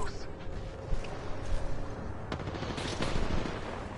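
Gunfire in a shooter video game where shields can be broken, heard as a busy, fairly continuous rattle of shots with bursts, under noisy game audio.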